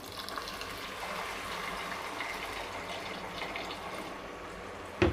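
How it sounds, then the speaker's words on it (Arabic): Boiling water pours onto lightly sautéed Egyptian rice in a pot, making a steady, moderate gushing that runs throughout and ends with a brief clunk. "هنحط له بقى ميه مغليه"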